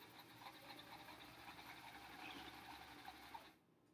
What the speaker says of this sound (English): Trying to sew as straight of a line as I can.